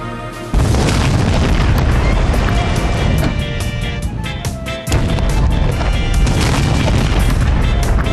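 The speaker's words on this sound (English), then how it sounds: "If the sound from your explosion actually reaches France, we should be able to detect it here." A large test explosion set off to see whether its blast could be heard across the sea in France: a loud, deep boom that swells into a sustained roaring rumble, briefly dips, then surges again.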